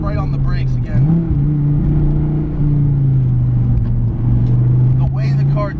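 Dodge Viper T/A engine pulling hard on a winding road, a loud close droning note that dips and rises again as it accelerates, with someone talking over it at moments.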